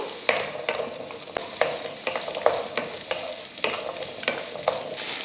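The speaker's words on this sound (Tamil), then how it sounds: "அடுத்து ஒரு 5 போல் பூண்டு, இதை வதக்கிடுவோம்" Whole shallots and garlic sauté in a pan with a soft sizzle, punctuated by a regular series of close, crisp spatula scrapes and taps.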